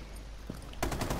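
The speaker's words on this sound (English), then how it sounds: "There's somebody shooting me." Burst of rapid automatic gunfire in a first-person shooter video game, a faint shot first and then a loud dense volley in the final half-second over a steady background hum.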